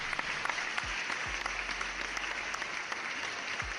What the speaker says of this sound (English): I will take another round of applause.